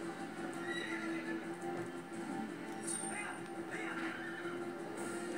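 A horse in the video game Twilight Princess HD whinnies and snorts faintly amid game ambience, with hoof clip-clops beneath and a voice speaking over it.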